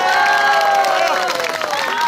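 A dixieland jazz concert audience applauds steadily and loudly, dense clapping filling the whole stretch with a few voices ringing over it.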